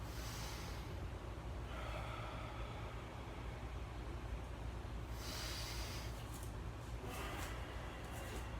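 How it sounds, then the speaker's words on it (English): Slow, deep breathing in through the nose and out through the mouth during a cool-down after a banded RDL and reverse lunge home workout, heard as steady airy inhales and exhales over a constant low background rumble. "Slowly breathing in through the nose."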